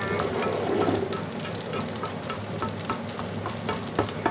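Fried rice is stir-fried in a hot wok, with constant sizzling and repeated scraping and tossing strokes of a spatula close up.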